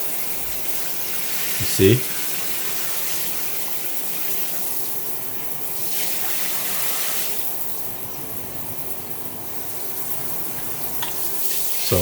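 A Waterpik WaterPulse UltraThin+ shower head sprays a steady, hissing stream of water up close, its tone shifting slightly as the spray changes, with a brief spoken remark early on.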